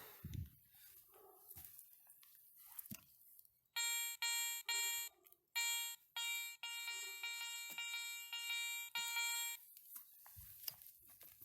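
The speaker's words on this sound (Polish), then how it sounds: "Także ładny podwójny gong." At 15 cm over a buried one-kopeck coin in soil, a Garrett 400i metal detector sounds a series of short repeated beeps, then a sustained double-gong tone, loud and close with light rustling around it.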